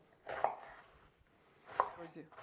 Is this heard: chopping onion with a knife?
yes